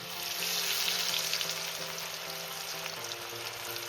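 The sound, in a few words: lentil onion fritters frying in oil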